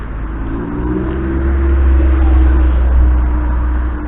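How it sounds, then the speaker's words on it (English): Steady road traffic on a busy Broadway street, a continuous low engine rumble swelling slightly in the middle as vehicles pass nearby, with no talking. "It is quite noisy down here because of the cars,"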